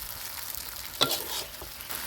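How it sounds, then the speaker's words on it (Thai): Wide rice noodles are stir-fried for pad see ew in a pan, giving a steady soft sizzle with a sharper scrape of stirring midway, close and without talk. "ผัดพอเส้นสุกนะครับ ผมไม่ต้องผัดนานเดี๋ยวจะติดกระทะนะครับ"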